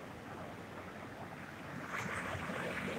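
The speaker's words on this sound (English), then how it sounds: "The waves aren't very kicking." Ocean waves wash onto a cold beach at Sea Isle Inlet as a steady, broad surf roar with wind across the microphone, swelling slightly louder in the last second; no voices.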